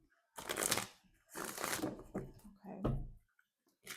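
Tarot cards riffle and slap in three or four quick shuffling bursts, close and crisp, with short quiet gaps between them.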